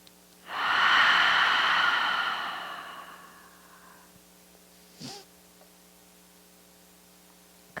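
During a yoga practice, a single long open-mouth exhale swells breathily and fades over about three seconds, followed by a short soft breath or snort near the end, otherwise quiet.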